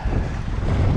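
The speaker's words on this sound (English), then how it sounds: "that wind is bitterly cold" Cold wind blows across a fishing boat at sea, a steady, loud roar of buffeting wind on the microphone with no voices.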